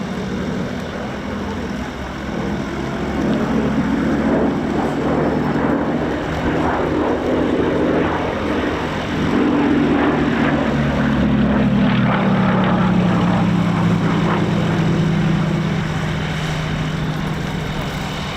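A Westland Lysander's propeller engine roars close and loud, a sustained drone whose pitch sweeps downward in the second half as the aircraft moves past, with little or no talk.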